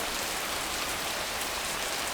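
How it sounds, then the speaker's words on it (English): Heavy downpour during a thunderstorm, a dense, constant hiss of rain hitting surfaces close by, with no thunder or talk. "we have just gone a downpour, crazy thunderstorm, and it's just getting worse"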